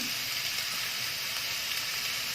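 Sliced water chestnuts stir-fry in a pan with chili flakes, black pepper and oregano, giving a steady, close, even sizzle and hiss with no talk.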